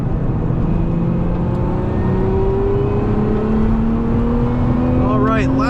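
Lotus Emira V6 sports car driving on a track in third gear, a loud, continuous engine drone whose pitch slowly rises as it pulls, with a brief whine near the end.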